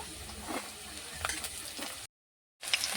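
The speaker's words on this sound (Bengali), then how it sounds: "বেগুনটাকে ভালো করে নাড়াচাড়া করে ভেজে নেব" Eggplant pieces sizzle in hot oil in a pan while being stirred, with scraping taps of the spatula over a constant fry, then a brief dropout before the sizzle resumes.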